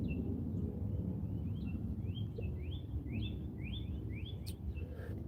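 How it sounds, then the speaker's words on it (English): A woodpecker calls in a historic cemetery in Riverview, Florida, giving a run of short, repeated chirps at moderate distance over a steady low outdoor rumble. "I hear a woodpecker around here somewhere."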